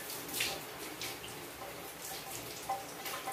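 Shower water runs and splashes softly and continuously, faint and close, with uneven bursts as the spray hits skin and surfaces.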